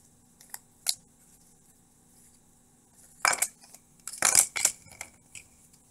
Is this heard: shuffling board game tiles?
yes